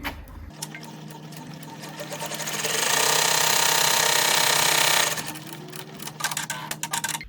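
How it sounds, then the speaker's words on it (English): An embroidery machine sewing its first placement stitch on a patch, a steady close mechanical whirring hum that swells loudly in the middle and then gives way to quieter clicking and rattling. "it's going to do that first placement stitch"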